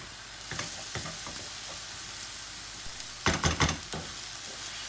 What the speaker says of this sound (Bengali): মশলাটা ভালো করে ভাজতে হবে।